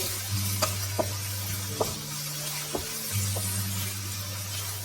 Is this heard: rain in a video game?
no